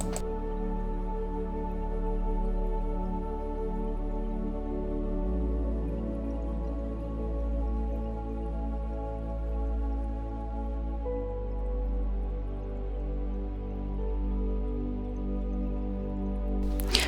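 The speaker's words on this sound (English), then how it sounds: "So enjoy the next few seconds of me pouring." Melted coconut soy wax poured slowly into a ceramic candle vessel, a steady soft liquid trickle and stream lasting throughout, close and continuous with a slight shift in tone midway as the vessel fills.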